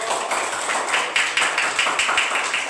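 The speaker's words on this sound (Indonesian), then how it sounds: "kita berikan tepuk tangan untuk kelompok" Applause for a student group in a classroom, a steady wash of many hands clapping with a few sharper claps standing out, moderately loud and continuous throughout.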